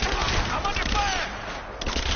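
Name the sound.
gunfire in the video game Rise of the Tomb Raider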